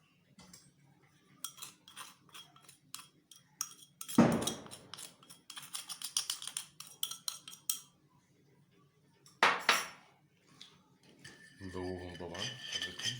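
A spoon clinks and scrapes in a bowl while stirring sugar, yeast and vanilla into warm water for semolina dough, in irregular taps with a couple of louder knocks and scrapes, fairly quiet and close.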